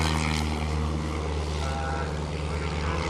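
A model aircraft flying at an air show on a former RAF airfield in Yorkshire gives off a loud, continuous buzzing engine drone, steady and close for the whole stretch with no talking.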